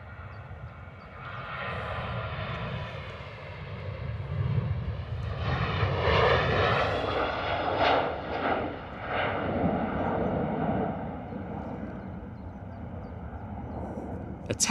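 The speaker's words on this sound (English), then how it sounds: "Sounds nice and loud for us, the Ryanair 73." A Ryanair Boeing 737 jet roars past on takeoff from London Stansted, bound for Madrid, its engine noise building to a loud peak midway and then holding a steady rumble as it climbs away.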